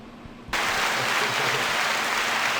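A button-triggered applause sound effect cuts in abruptly after a quiet moment, then continues as steady, loud recorded clapping to the end.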